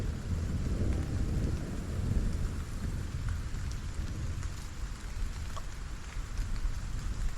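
Steady rain pours across a video game landscape in Stranded: Alien Dawn, a dense continuous hiss with low rumbling undertones that could be distant thunder, filling the scene evenly with no voices.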